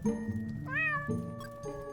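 A cartoonish cat meows twice in the Roblox game The Catcher, the first call rising and falling clearly, the second shorter, over faint game background sounds.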